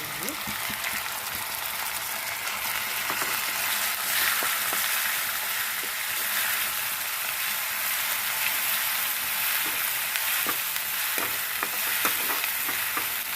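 Onion paste frying in oil in a pan, a loud continuous sizzle with frequent crackles and the scrape of stirring, close up and without talk.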